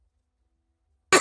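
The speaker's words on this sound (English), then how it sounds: "hold on, I got a cough." A single short cough bursts out close by at the very end, after near silence.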